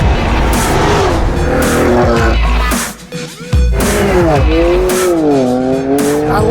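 A car being pushed hard through corners in a 2016 Motor Trend Best Driver's Car test, its tires squealing loudly in long, wavering, pitch-bending screeches over the roaring engine, with a brief lull midway.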